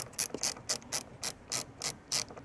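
Ratchet wrench clicking as it loosens a 14 mm seat belt bolt inside a 2016-2019 Toyota Tacoma, about nine quick, even bursts of sharp metallic clicks, close and clear with no talk.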